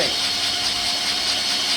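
An Exmark mower engine that had been locked up, cranking after being freed with penetrating oil, gives a steady, loud whirring drone with no clear firing, stiff as it turns over the hydraulics.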